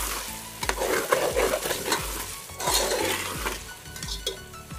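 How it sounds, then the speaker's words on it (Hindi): Fresh peas and vegetables fry in oil while a spoon stirs briskly, producing rhythmic scraping strokes and light clinks over a constant crackling sizzle, close and unaccompanied by speech. "अब हम इसमें मटर डाल देंगे, ये हमारी फ्रेश मटर है, इसको भी हम अच्छे से भून लेंगे।"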